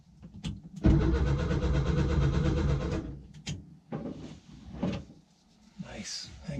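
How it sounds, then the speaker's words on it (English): Air-cooled engine of a VW splitty bus, left sitting for over 30 years, cranking over for several seconds in a steady chugging rhythm, followed by clunks and faint background talk. "The splitty bus turns over."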